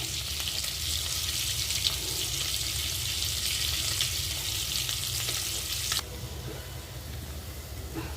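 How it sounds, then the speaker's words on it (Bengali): Eggs frying in oil with turmeric and salt for a Bengali egg bhuna, a steady close sizzle with spatula stirring that drops to a quieter frying hiss near the end. "আমি হলুদ আর লবণ দিয়ে ডিমটাকে ভেজে নিচ্ছি।"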